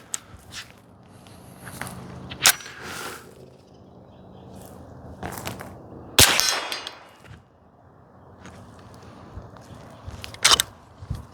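CMMG AR .22 LR pistol firing CCI standard 40-grain lead round nose rounds, giving a few sharp, isolated cracks spaced several seconds apart against quiet handling noise, with one especially loud report in the middle.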